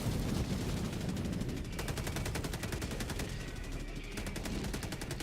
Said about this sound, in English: Oh my God, that strafing run.